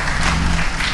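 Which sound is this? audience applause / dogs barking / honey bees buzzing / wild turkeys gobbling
audience applause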